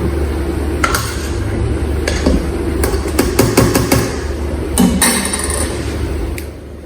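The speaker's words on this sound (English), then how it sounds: "I'm going to give our pasta another stir so it doesn't stick together." Pasta being stirred in a pot, with light scraping and clinking of a utensil against the pot in irregular taps over a steady bubbling boil, close by.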